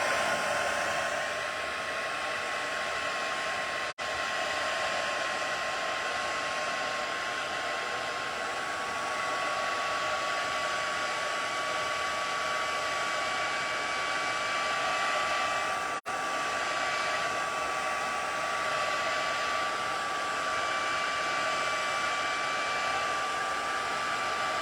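A heat tool blows continuously for about 25 seconds, drying alcohol ink on vellum, with a steady loud whirring hiss, close and alone, interrupted only by two brief dips.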